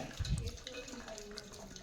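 Water drains off boiled jackfruit in a soft, brief splashing pour, faint and close, with a low thump at the start.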